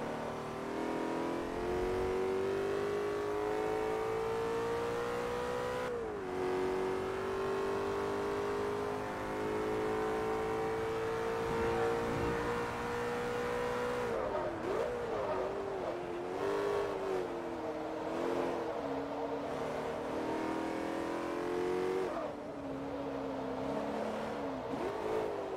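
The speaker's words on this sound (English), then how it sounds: "this engine sounds amazing" A race car engine in the video game Forza Motorsport 3 drones at a high pitch, rising steadily, then dips and revs again through gear changes, loud and continuous with no voices.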